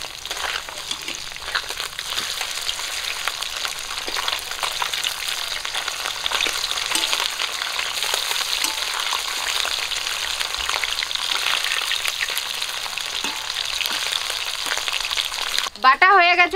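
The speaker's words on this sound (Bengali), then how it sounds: "মাছগুলো এক পিঠ করে ভাজা হয়ে গেছে," Catfish frying in hot oil in a pan in a village kitchen, a steady dense sizzle that runs throughout at close range, with a brief clatter near the end.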